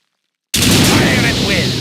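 Sudden burst of weapons fire from units in the real-time strategy game Mental Omega, a loud, dense crackling volley starting abruptly after silence.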